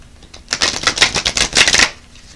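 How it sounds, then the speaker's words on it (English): A deck of animal tarot and oracle cards being shuffled by hand produces a loud, rapid run of crisp riffling clicks for over a second, close to the listener, then it stops. "I'm getting them all shuffled out for you guys."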